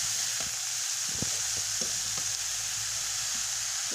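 Leafy greens with garlic and a pinch of salt frying in a pan, giving a steady, close sizzle broken by soft scraping knocks as they are stirred.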